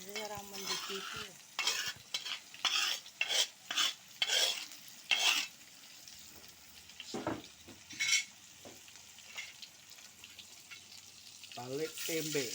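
Tempeh frying and being stirred in a pan, with crackling sizzle and scraping utensil strokes in bursts over the first half, quieter later, near and fairly loud, with faint voices now and then.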